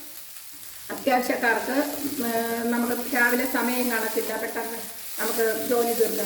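Papaya thoran stir-frying in a pan over high flame, a soft, continuous sizzle with occasional stirring scrapes under a person talking for most of the stretch.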